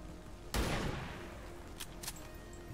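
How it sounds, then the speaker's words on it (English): Sniper rifle shot fired by an XCOM 2 marksman in a video game, one sharp loud crack with a decaying tail, then a couple of fainter impact thumps under a low game ambience. "Marksman to use the sniper rifle."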